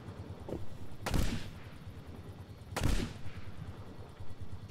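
Two separate bursts of gunfire in Medal of Honor (2010), each a sharp crack with a fading tail, spaced about two seconds apart over low in-game ambience, moderately loud, with no talk.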